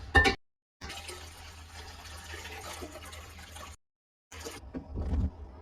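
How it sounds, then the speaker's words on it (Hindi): Water pours steadily into a pot of soaked lentils, a continuous splashing fill with a short pause and a brief louder gush near the end. "और अब इसमें पानी भर के इसको चढ़ा देते हैं जब तक।"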